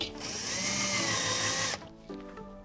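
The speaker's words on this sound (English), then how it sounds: "I'm just going to put this last 2 screws into the anchors." A power drill drives the last two screws into wall anchors while a ceiling-mounted curtain track goes up, a loud steady whir lasting about two seconds before cutting off, followed by a faint clunk and quieter handling.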